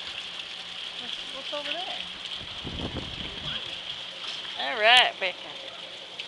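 Rain falls steadily in a soft continuous hiss during a storm, while children and an adult talk over it and one child squeals loudly near the end.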